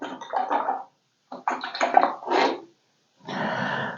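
A watercolour paintbrush swished and rinsed in a water pot, heard as three close, wet bursts of sloshing separated by short pauses.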